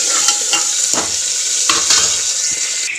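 Onions with bay leaves frying in a pan, with a loud, close sizzle broken by several clattering stirs of a utensil against the pan, and no speech.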